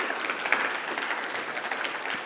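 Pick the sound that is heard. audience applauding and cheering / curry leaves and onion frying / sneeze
audience applauding and cheering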